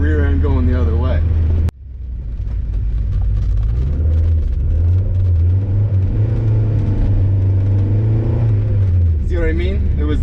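A Mazda MX-5 Miata engine drones and revs while the car slides sideways on a snowy winter road, steady loud rumble under someone talking, after a sharp click.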